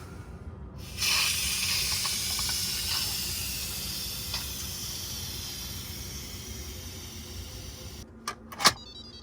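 Steam vents from an Instant Pot pressure cooker in a sustained loud hiss that starts abruptly, holds steady for several seconds and slowly eases, followed by a few short clicks near the end.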